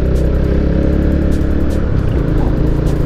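A car passing close by a roadside food stall area in Petaling Jaya, its steady engine and tyre rumble loud and continuous throughout, with a brief swell as it goes by.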